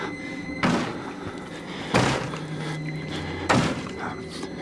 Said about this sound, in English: you hear a loud banging noise